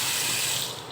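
A restroom faucet at a Caltex station in Puerto Princesa runs with a steady, even hiss of water, close by and continuous for about a second.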